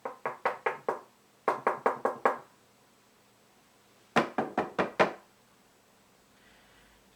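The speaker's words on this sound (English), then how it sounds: "It can, let's say it recognizes a door knock" Knocking on a door in three quick bursts of about five raps each, separated by pauses; crisp, close and alone, with no voices.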